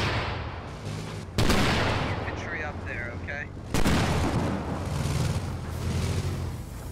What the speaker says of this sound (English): BMP throwing some rounds in.